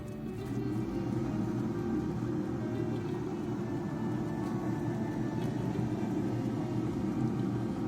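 Cosori air fryer running after a control board repair: a steady, low humming fan drone that holds constant throughout, close and moderately loud.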